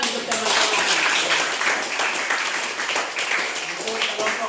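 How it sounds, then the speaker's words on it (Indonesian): High school students in a classroom clap for their classmates, a brisk burst of mixed hand claps with voices chattering over and under it throughout. "Tepuk tangan untuk teman-teman."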